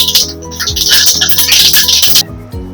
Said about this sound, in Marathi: राई आपली छान तडतडली आहे